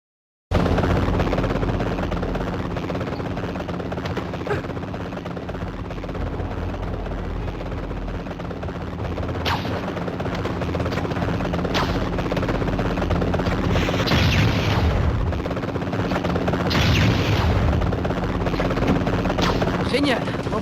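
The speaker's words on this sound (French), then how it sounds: "Suivez cet hélico!" In the Spider-Man 3 PSP game, a helicopter's steady rotor drone runs continuously while bursts of explosions break in, and character voices talk over the action.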